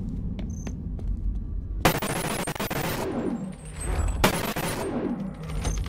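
Gunfire from a weapon in the VR game Bonelab rings out in two sharp, loud bursts with decaying tails, separated by a couple of seconds of quieter background.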